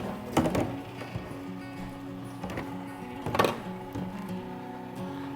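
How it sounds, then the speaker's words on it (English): A meat grinder works braised wild pork and pork liver for boudin sausage, a droning electric motor hum with several heavier strained surges as meat feeds through, close and without speech. "utilize our meat grinder, and we're gonna just run our braised pork and pork liver through the grinder"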